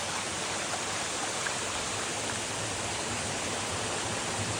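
Waterfall at Kalshiya Mahadev near Rawatbhata, a steady, dense roar of falling water heard close and loud throughout, with no voices.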